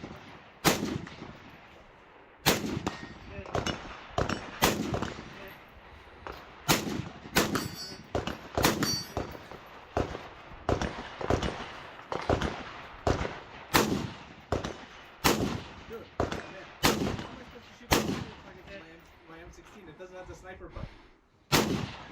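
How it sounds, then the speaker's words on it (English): Gunshots ring out at a multi-gun shooting match, some aimed at steel targets including a steel popper at 210 yards. Sharp, evenly spaced cracks fire in a steady series of about two dozen shots, with brief pauses between them. "taking one final shot at a 210-yard bonus target"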